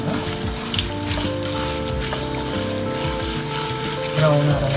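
Chana dal and spices dry-roasting in a pan for kollu sundal, a steady close sizzle with scraping stirs throughout while a voice talks over it.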